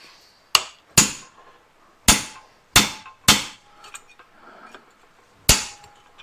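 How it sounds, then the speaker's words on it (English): Sharp metallic hammer strikes on a chisel against an aluminum part of a 1986 Alumacraft boat, six loud separate blows in an uneven rhythm with short ringing tails and quiet gaps between. "Get the chisel and see if we can just pucker it back the other way."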